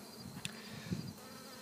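Honey bees buzz around an open hive with the queen inside, a soft continuous drone close by, with a couple of brief louder passes from individual bees.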